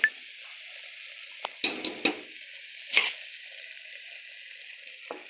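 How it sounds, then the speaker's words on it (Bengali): Rice is tipped into a pot of cooked-down chickpeas, giving a faint, steady sizzle broken by a handful of sharp clinks and scrapes against the pot. "এখন আমি চাউলটা দিয়ে দিব।"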